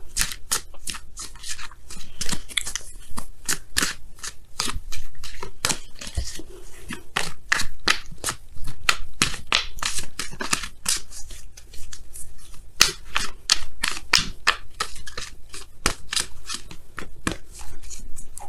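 Oracle cards are shuffled close by in a long run of crisp, rapid riffling bursts that come in fairly even, repeated pulses with brief gaps, alone and without talking.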